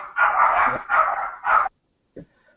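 A dog in a video game barks three times in a quick run of loud, close yelps, then gives one short faint yip after a pause.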